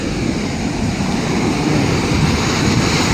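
Rough sea waves at a La Union beach roar in a loud, continuous broadband wash mixed with buffeting wind noise, with no talk.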